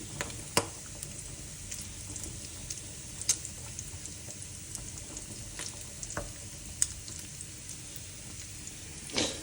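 Lardons cooking in a hot pan on a stovetop give a steady, quiet sizzle and crackle, with a few sharper pops and clicks scattered throughout and no voices.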